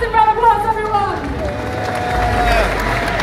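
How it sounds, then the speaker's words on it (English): A voice speaks over crowd noise at the EGX 2018 cosplay championship, then the audience breaks into steady applause and cheering that builds and holds to the end. "Give him a massive round of applause, everyone."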